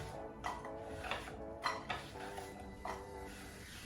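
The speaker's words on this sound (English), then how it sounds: "Now we'll quickly put them in a pan." Diced vegetables, onions, drop into a pan in a home kitchen. Several soft clattering knocks and scrapes come at irregular intervals, quiet and close, with faint background hum.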